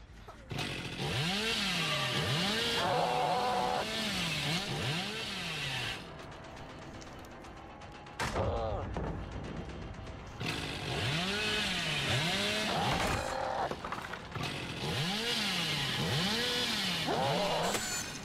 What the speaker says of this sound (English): I'm going a little too ham with the chainsaws